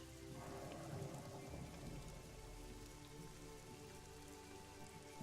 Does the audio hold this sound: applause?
no